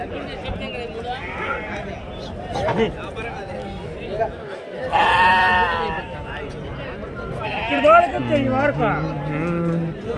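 Sheep and ram lambs bleat at a busy livestock market, several loud, wavering calls rising over constant crowd chatter and people talking nearby.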